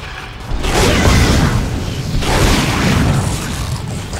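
Heavy booming gunfire from a sci-fi weapon in the horror shooter Dead Space, a loud sustained blast with deep rumble rolling on for several seconds, no talking.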